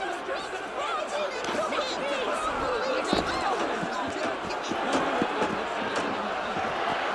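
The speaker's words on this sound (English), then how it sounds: "Man, the crowd is angry." An angry crowd in the video game Assassin's Creed Unity, a dense, continuous murmur of many shouting and chattering voices with occasional thuds, heard from close range without pause.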